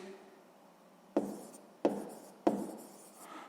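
A pen on paper writing out a math exercise by hand gives three sharp taps, each followed by a short scratch, quiet and close.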